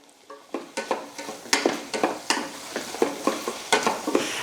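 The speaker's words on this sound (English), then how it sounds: "And if you haven't yet, add your carrots now. And then give them a good stir." Carrots being stirred as they fry in a soup pot: a quick series of sharp scraping, clattering strokes over a soft sizzle, close up and fairly loud, repeating every half second or so.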